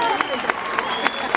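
An audience applauds at a Caporal dance performance, a dense wash of clapping with a few sharper claps standing out and some voices mixed in.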